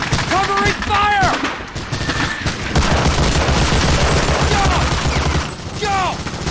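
Heavy gunfire from soldiers in the Medal of Honor Allied Assault video game's Omaha Beach battle: dense rapid volleys and bursts, loud and continuous, with shouted voices breaking in over the shooting.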